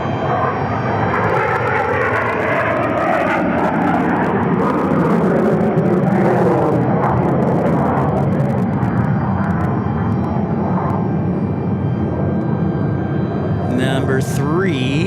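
Air National Guard F-16 fighter jets take off from Tucson International Airport without afterburners, a loud, steady, broadband jet roar that lasts throughout with slight swelling in the middle, heard from nearby.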